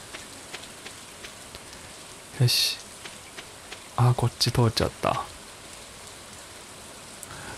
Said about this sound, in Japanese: 雨の日は最高です。